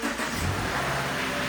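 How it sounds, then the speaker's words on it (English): A Subaru Forester engine turns over and settles into a steady idle, loud and close, with no voices. "go ahead and start the car"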